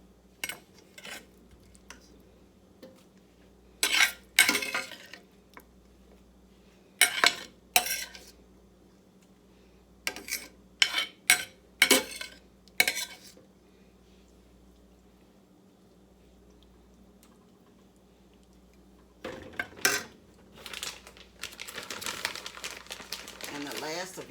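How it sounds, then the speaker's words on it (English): A beef meat mixture is spread evenly over baked cheesy enchiladas, with intermittent scraping and clinking of a utensil against the dish in short clusters, then a longer stretch of busy scraping near the end, under occasional talk. "Spread that evenly across. Your meat mixture."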